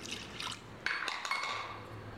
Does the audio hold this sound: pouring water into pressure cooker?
yes